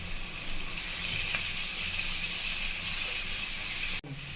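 Vegetables sautéing in oil with salt for a veg cutlet mixture, a continuous soft hiss of frying that holds steady, then cuts off abruptly near the end with a brief thud.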